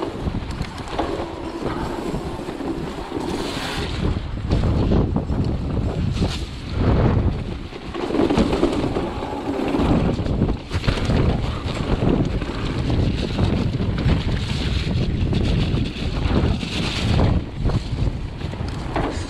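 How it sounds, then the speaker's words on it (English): Strong wind on a high trail in Wales buffets the microphone in a steady, gusting roar that surges and eases throughout. "So windy up here."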